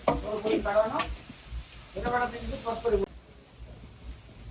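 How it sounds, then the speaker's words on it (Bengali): Onions sizzle and stir in hot oil for a hilsa fish curry cooked outdoors by a riverbank, a soft frying hiss under a voice that stops, leaving quieter sizzling. "তারপরে এই যে পেঁয়াজ দিচ্ছি কারণ এই মাছের মজা হচ্ছে তেলের ভিতরে পেঁয়াজ এবং মরিচ ধুয়ে ভালো করে ভুনলে এটা টেস্ট বাড়ে"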